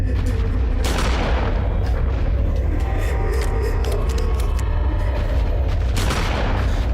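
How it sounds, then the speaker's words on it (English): Gunfire in the Eternal Darkness: Sanity's Requiem video game, with sharp booming shots near the start and end over a dense, loud low rumble of in-game ambience. "Let me see if I can just shoot him."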